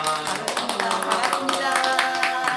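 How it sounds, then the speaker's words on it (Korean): A church congregation claps for students after their performance, brisk uneven handclaps over a musical backdrop, with some voices mixed in. "오늘 우리 학생들에게 잘했다고 한번 박수 한번 해주세요"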